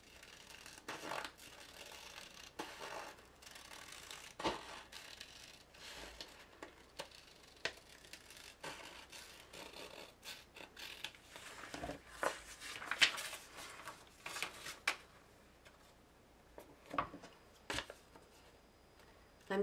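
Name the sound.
trimming out a card template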